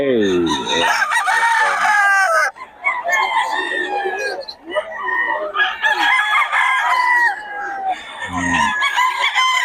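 Several roosters and chickens sold as quality fowl crow and cluck close by, with repeated loud cock-a-doodle-doo calls overlapping one another and busy clucking in between.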